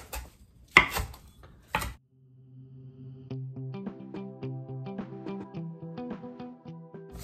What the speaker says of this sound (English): So I'm just gonna give it a rough chop